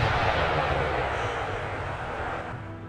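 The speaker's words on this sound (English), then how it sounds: "Rocket troops. Rockets inbound." Rockets fired by rocket troops in Empire Total War roar as a broad, dense, continuous rushing blast that slowly fades over a few seconds.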